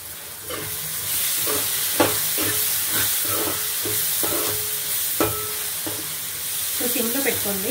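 Onions frying under a lid in a pan for Andhra-style egg curry. A steady sizzle and hiss runs throughout, broken by regular clinks and scrapes of stirring.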